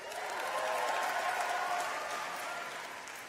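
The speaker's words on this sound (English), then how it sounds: "Cheer for Jessie." Convocation audience cheering and applauding, a dense, loud burst of clapping from a large crowd that holds steady for a few seconds and then eases slightly.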